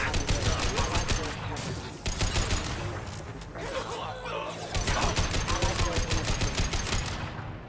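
Rapid bursts of gunfire in Mass Effect 2, dense rattling volleys broken by a couple of short pauses, loud and close throughout, with a voice speaking briefly among the shots.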